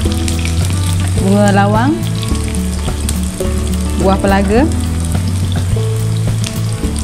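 Shallots, garlic, cinnamon bark and whole spices such as star anise and cardamom fry in hot oil for a Malaysian beef bubur lambuk, giving a loud, continuous sizzle while someone talks over it.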